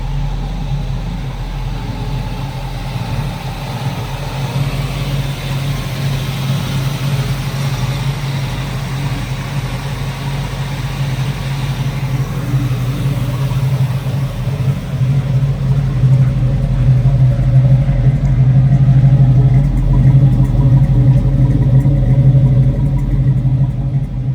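A 1971 Chevrolet Camaro with a freshly tuned carburetor idles with a loud, steady low rumble close by, the engine note building slightly toward the end.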